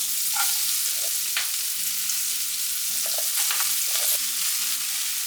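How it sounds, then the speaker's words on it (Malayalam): Chopped green beans (payar) frying with spice masala in a pan for a mezhukkupuratti give off a continuous bright sizzle, broken by occasional stirring scrapes and clinks, with no voices. "ഈ സമയത്ത് നമുക്ക് ഇതിലേക്ക് അരിഞ്ഞു വെച്ചിട്ടുള്ള പയർ ഇട്ട് കൊടുക്കാം"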